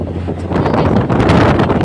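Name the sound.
wind while riding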